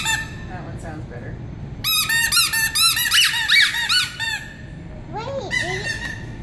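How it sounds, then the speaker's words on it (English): Bicycle horn squeezed repeatedly, producing a run of loud honking squeaks in quick bursts, with a few scattered single squeaks before and after the main flurry. "Now you found your horn."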